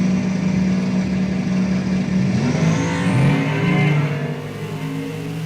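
Drag racing cars rev hard at the start line, a loud sustained engine roar that climbs and surges before easing off, close by with no voices.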